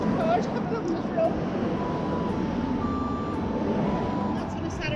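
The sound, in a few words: cars and traffic on a road in Dublin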